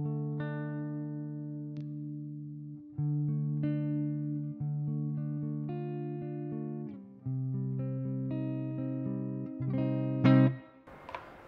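Clean electric guitar through a Bogren Digital MLC Subzero 100 amp on its Vintage Clean preset, playing chord arpeggios and sustained notes with clear picked attacks, ending in a brief scratchy strum.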